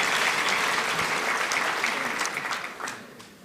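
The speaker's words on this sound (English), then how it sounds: "So let's give another round of applause." A graduation audience at a university ceremony in Windhoek claps loudly and continuously, dense close applause that gradually thins and fades toward the end.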